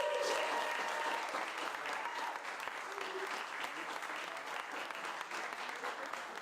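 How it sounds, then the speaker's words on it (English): Sustained audience applause fills a Sarasota event hall honoring Matt the Welder and Bobby Williams, a dense, steady wash of many hands clapping at moderate distance with faint voices mixed in. "So please give him a large round of applause."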